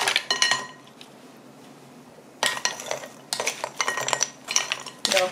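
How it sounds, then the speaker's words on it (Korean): Ice cubes clatter into a bowl of cucumber and seaweed for a chilled soup, bursts of sharp clinks and rattles up close separated by a quiet pause, with no talking. "저는 냉국을 만들 때 물을 먼저 붓지 말고 얼음을 먼저 넣어요"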